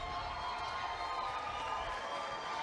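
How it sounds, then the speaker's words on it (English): Hillary Clinton supporters cheering at her campaign headquarters on election night, a steady dense crowd roar with shouts and clapping filling the room, sustained and fairly loud without a break. "They're cheering over there behind Brianna Keeler."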